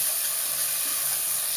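Ginger garlic paste fries with onions in a hot pan, giving a loud, steady, close sizzle and hiss with no talking.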